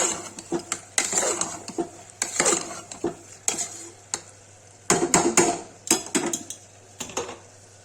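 A spoon scrapes and clinks around a metal pot in quick, irregular strokes, stirring turmeric and red chilli, with a faint sizzle underneath; no talking.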